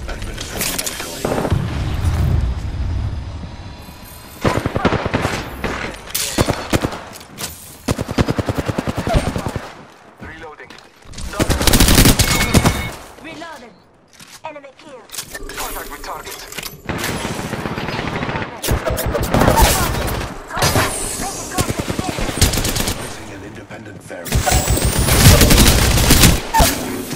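Bursts of automatic gunfire and heavy booms from an Apex Legends firefight erupt in loud clusters separated by brief lulls, with in-game voice lines heard between the volleys.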